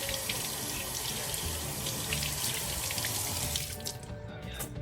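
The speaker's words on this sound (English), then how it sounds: "So what we're going to do now is we're going to rinse it. Wash your hands." Water runs steadily from a tap for hand washing before rinsing homemade butter, a close continuous splashing stream that tapers off near the end.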